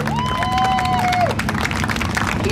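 Crowd applause and cheering at Mid Michigan Raceway Park during a 4-cylinder feature race night, steady and loud, with whistle-like tones above the din.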